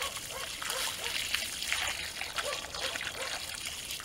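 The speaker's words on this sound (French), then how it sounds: "Donc on va mettre un seau, un arrosoir pour chaque trou." Water from a watering can pours into a planting hole dug for birch saplings, a steady close trickling and splashing that runs continuously without pause.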